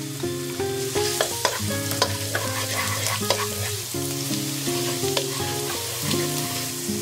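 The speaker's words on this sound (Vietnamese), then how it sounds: "Dầu nóng thì mình cho hết chỗ hành tỏi còn lại vào phi lên cho thơm." Steady sizzling of garlic and shallots frying in hot oil with scattered clinks and scrapes of a utensil, close by, over a background of music.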